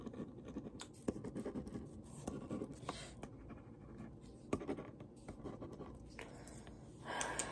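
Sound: writing

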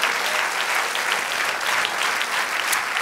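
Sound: applause from church congregation

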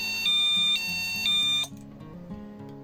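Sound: audible alarm of Arduino flame detector

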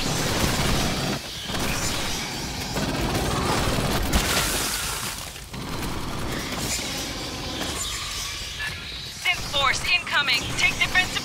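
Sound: gunfire from the video game Aliens Fireteam Elite

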